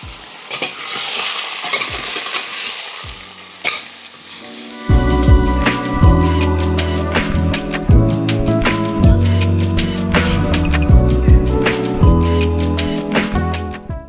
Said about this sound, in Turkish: şimdi eti güzelce mühürledim